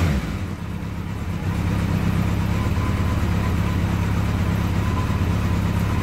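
Kawasaki KZ1100 motorcycle engine running steadily nearby, a loud low rumble that builds in the first two seconds and then holds an even, throbbing drone with no talk over it.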